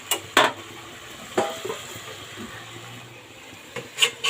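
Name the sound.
lid being put on a cooking pot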